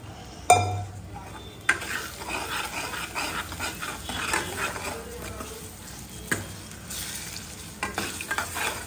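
Soybeans go into a sizzling masala in a frying pan: a steady hot fry with a few distinct thumps and clinks as pieces drop in and get stirred.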